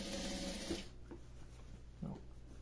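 A sewing machine runs a quick backstitch at the start of a seam while making a stuffed toy rabbit, a short dense mechanical whir that stops abruptly, followed by faint quiet handling noises.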